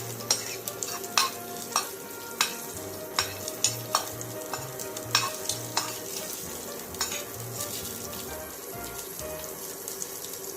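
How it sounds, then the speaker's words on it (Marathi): Garlic cloves and cumin seeds frying in oil in a pan, a steady low sizzle under regular close spatula strokes that tap and scrape about every half second, moderately quiet, with no voices. "जिरे लसूणच्या पाकळ्या छान अशा परतून घ्या"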